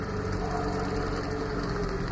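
A car engine drones steadily while driving, a continuous low rumble with some higher mechanical whine, moderately loud and unbroken throughout, with no talk.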